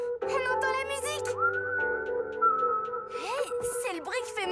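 Someone whistles in a series of bright, sliding tones with quick upward and downward swoops, mixed with a busy cartoon-like soundtrack and some vocal sounds throughout.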